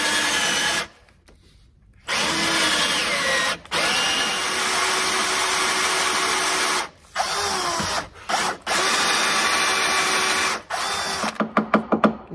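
A forstner bit driven by a power drill bores a hole in wood during a broken chair leg repair, with loud sustained drilling in several long bursts separated by brief pauses, close up and with no talking.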